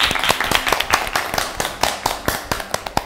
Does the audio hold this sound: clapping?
yes